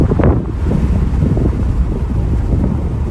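Steady broadband wind roar rushes in through an open window of a moving Tesla Model Y, loud and continuous with no talking.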